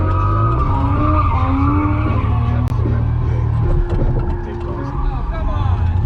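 An FC RX7 drifts with its tires skidding, producing a loud, continuous rasping squeal over steady engine roar. Wavering pitched tones run through the squeal, a brief dip comes near the middle, and people talk underneath.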